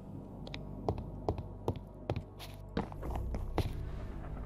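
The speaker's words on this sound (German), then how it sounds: "Plötzlich höre ich hier so Schritte." Footsteps crunch through a cave in a horror video game, a steady run of soft thuds spaced about every half second over a low rumbling ambience, moderately close.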